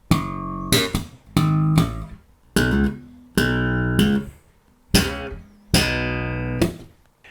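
Slap bass riff played slowly, with a popped octave and a slide resolving onto a B octave; six punchy, well-spaced plucks with brief sustains and clean gaps, close and unaccompanied.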